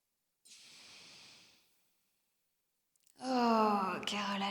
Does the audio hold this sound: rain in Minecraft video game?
no